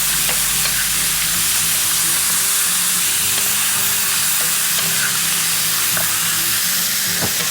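Loud, continuous sizzling of lamb stir-frying in a pan for a kimchi lamb pancake, with a faint low hum underneath and occasional clicks and scrapes of a utensil moving the meat.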